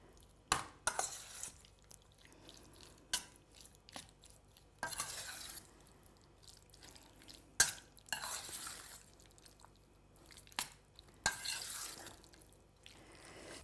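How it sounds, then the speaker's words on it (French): Diced pieces tossed with tamari, oil and spices in a bowl give soft wet stirring scrapes and occasional spoon clicks against the bowl, fairly quiet and intermittent, with no talk. "Bien mélanger pour que vraiment chaque petit dé soit imprégné du tamari et de l'huile et de toutes les petites épices"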